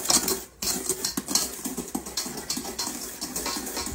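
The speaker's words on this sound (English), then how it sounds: "I'm going to take my utensil here and kind of stir that up a little bit" Utensil scraping and clinking against a bowl while stirring dry ingredients for a lemon blueberry loaf, a steady run of close, light scratchy strokes with no talking.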